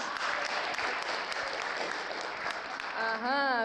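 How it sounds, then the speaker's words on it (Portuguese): Applause from an audience at a public-speaking talk, steady dense clapping throughout, with a voice starting to speak over it near the end. "Salva de palmas, Michele."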